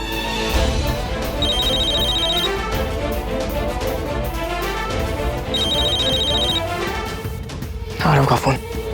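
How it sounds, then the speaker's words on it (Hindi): A phone ringtone rings in two bursts in a Hindi TV drama scene, a steady electronic tone repeating over background music and voices, followed by a brief sharp clatter near the end. "आरव का फोन उठाओ, पूछो कहाँ है वो।"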